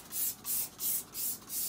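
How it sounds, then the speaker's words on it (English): A trigger bottle of Norwex heavy-duty degreaser sprays onto a kitchen stove in five rhythmic hissing bursts, close and fairly quiet, with no talk. "Let's go ahead and I'll spray the stove down."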